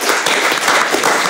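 A quiz show studio audience applauds steadily, a dense wash of clapping that holds at a constant level throughout.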